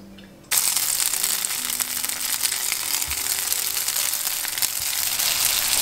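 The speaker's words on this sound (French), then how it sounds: "Il faut griller le tofu. Je vais tout simplement prendre de l'huile d'olive que je vais mettre dans ma poêle." Tofu squares frying in hot olive oil in a pan: a sudden loud hiss as the tofu hits the oil, then a steady, close, crackling sizzle that continues without talk.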